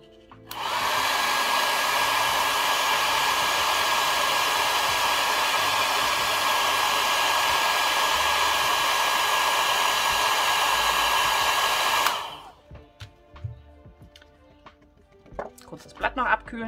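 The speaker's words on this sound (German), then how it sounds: "Und dann föhne ich." A hair dryer blows steadily on wet watercolor paint on paper for about eleven seconds, close and loud, then switches off, leaving a few light handling clicks and taps.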